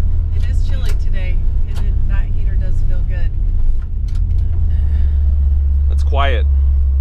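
A 1959 Chevy Brookwood engine idles while warming up on a chilly day, giving a steady low rumble under a person talking close by.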